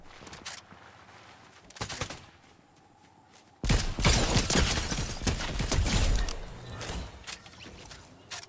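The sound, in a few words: gunfire from a video game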